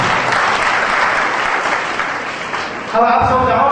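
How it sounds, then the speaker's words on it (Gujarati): Audience at an indoor event or show applauding steadily, a dense sustained clapping that tapers before a voice begins speaking near the end. "તમારા માટે થોડો તાળીનો ગણગણાટ કરવો પડશે"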